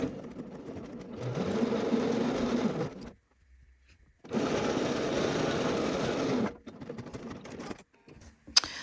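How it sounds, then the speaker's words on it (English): A sewing machine stitches shirt shoulder seams at a half-inch allowance in two steady runs separated by a brief silence, followed by a few quieter handling sounds near the end. "now we're ready to sew our shoulder seams together here"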